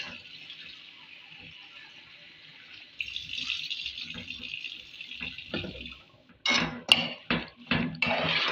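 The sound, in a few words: water poured into banga stew pot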